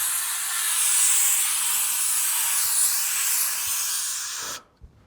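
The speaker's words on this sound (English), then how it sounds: "I pick up one of these, just a car air freshener from the local garage" Aerosol car air freshener sprayed inside a van, one long close hiss lasting several seconds before cutting off abruptly, followed by a faint click.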